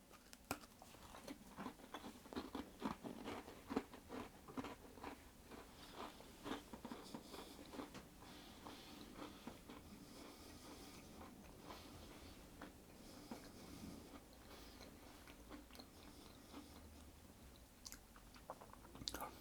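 Close crunching and chewing of a homemade crunchy coconut biscuit, with repeated crisp bites and steady munching through the whole stretch, quiet and intimate with no talk.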